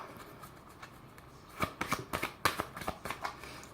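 Tarot cards are shuffled by hand in a quiet room, a soft run of crisp riffling flicks and slaps that grows busier halfway through, close and fairly faint with no talk.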